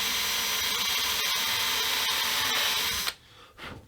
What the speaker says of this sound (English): I'm starting off by drilling these holes again